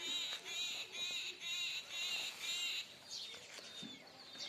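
Repeated bird calls in a regular rhythm of short bursts, fairly close, followed by a few softer chirps; no one speaks.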